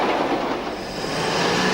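A British steam railway train in the Aldershot district of the 1940s runs past nearby, a loud steady rumble of rolling carriages and wheels on track with no voices.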